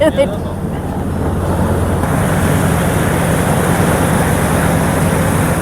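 A boat passes on Lake Windermere, a steady broadband engine and water rumble holding level throughout, with wind noise on the microphone.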